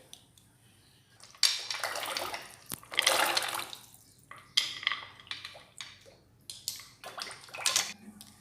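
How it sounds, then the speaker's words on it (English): Dry pasta pours into boiling water with oil and salt in a wok, giving bursts of rattling, splashing and bubbling separated by quieter gaps, near and fairly loud. "now you have to add pasta to it"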